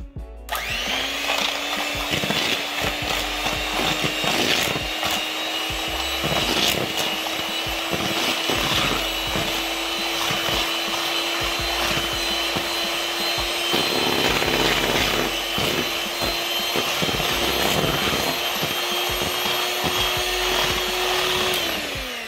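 An electric mixer whirs steadily through cream cheese pecan pie filling, a loud continuous motor drone with shifting pitch and rattling, scraping knocks from the beaters against the bowl, close and unbroken throughout.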